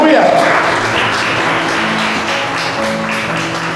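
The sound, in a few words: church congregation clapping for Jesus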